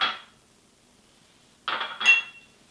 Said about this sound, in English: Mix all those together.